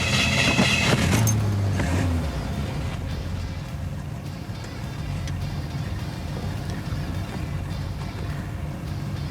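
A white 1972 Chevrolet Corvette drives along, its engine droning steadily from inside the car under road and wind noise, with a brief louder burst at the start.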